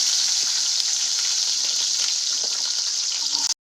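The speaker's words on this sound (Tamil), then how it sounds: "வெங்காயத்தை எண்ணெயிலே நல்லா வதக்கி விட்டுக்கோங்க" Small onions sautéing in hot oil for a Kerala-style fish curry give a steady, close, hissing sizzle that runs evenly and then cuts off abruptly.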